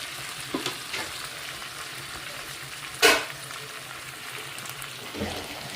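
Steady sizzling of food frying in oil, a soft continuous crackle with a brief louder burst of hissing midway.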